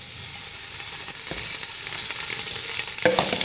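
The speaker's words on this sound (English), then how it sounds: "In goes our sausage." Sausage browns in a pot for red beans and rice, a steady dry sizzle holding close and even throughout, with a couple of short scraping stirs breaking through near the end.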